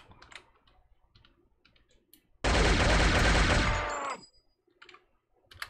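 A gun in the video game Shogo: Mobile Armor Division fires a loud, rapid burst lasting under two seconds. Quiet clicks come before and after it.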